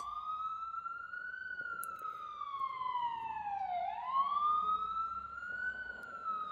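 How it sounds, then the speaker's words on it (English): A wailing emergency siren rises and falls slowly, steady and somewhat distant, heard outside with a faint background hum. "I don't know if you can hear that. It's sirens."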